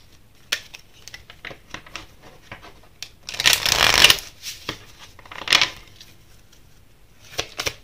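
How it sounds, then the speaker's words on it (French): Tarot cards shuffled by hand in short bursts, with soft scattered riffles and a louder, longer flurry midway, close and quiet with no talking. "On va rebattre les cartes."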